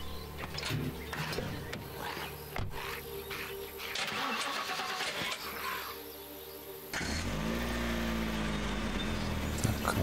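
A car engine in the video game The Last Stand Aftermath starts, then idles and revs with a mid-pitched hum, stepping up louder partway through over background game sounds.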